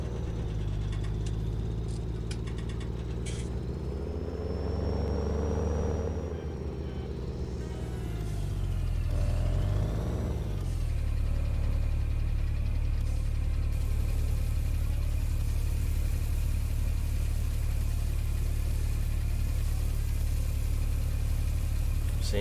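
A Ford 1455 tractor engine runs steadily at idle, giving a continuous mid-pitched rumble with a brief rise and fall in revs partway through, then settling into an even, fairly loud drone.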